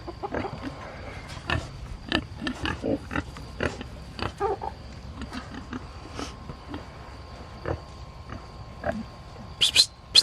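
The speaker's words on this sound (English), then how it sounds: "They're enjoying being able to root around, and they have tore this pen up." Pigs grunting and snuffling as they root around a torn-up pen, a steady run of short, close grunts and sniffs with a few louder squeals near the end.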